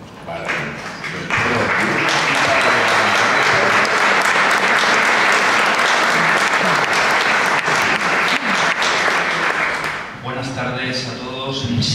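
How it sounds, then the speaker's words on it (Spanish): Sustained audience applause at a poetry award gala in the Real Casino de Murcia, a dense, loud roar of clapping that swells after a second and holds for about nine seconds before fading, with voices around the end. "solicito un aplauso para el"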